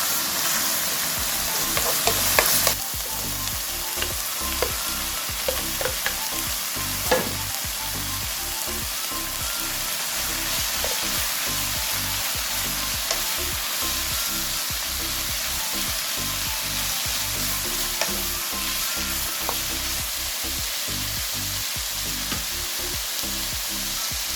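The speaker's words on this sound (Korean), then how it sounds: "삼겹살이 노릇노릇하게 익을 때까지 볶아주세요" Steady, crackling sizzle of pork belly frying in a hot pan until golden, with occasional scrapes and clinks of stirring, continuous and close throughout.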